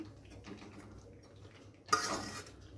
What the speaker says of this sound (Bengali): এবার আমি পনিরগুলো এতে দিয়ে দিচ্ছি।